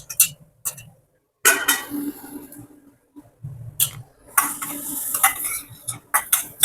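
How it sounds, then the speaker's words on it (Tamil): Mutton chukka masala being stirred and sautéed in a pan: sharp scraping spoon strokes and clinks come in irregular bursts over a soft sizzle, with short quiet gaps between them. "பச்சை ஸ்மெல் போகிற வரைக்கும் நல்லா வதக்கிக்கலாம்"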